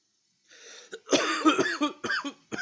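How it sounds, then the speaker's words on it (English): A couple of harsh, close coughs break out after a brief pause, followed by throat clearing and a few smaller rough coughs. "So if you hear me coughing, just try to ignore it as best as possible."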